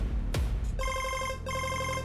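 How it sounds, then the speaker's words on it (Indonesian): A phone rings in an Indonesian TV drama scene: after a soft knock, an electronic trilling ringtone starts, pauses briefly, then trills again, clear and near over a low background. "Siapa yang telepon nih?"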